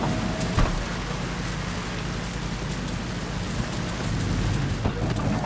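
Steady rain falls in the video game Cyberpunk 2077 Phantom Liberty, a dense continuous hiss that fills the scene at moderate loudness, with no voices over it.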